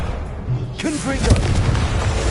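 The Confringo explosive spell bursts in a Harry Potter video game, with a loud deep boom and rumble. A voice shouts just before it over constant background noise.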